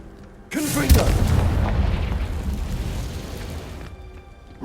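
A Confringo fire spell explodes in Hogwarts Legacy on PS5: a sudden loud blast with a sharp attack, then a long rumbling, crackling roar that gradually fades over several seconds.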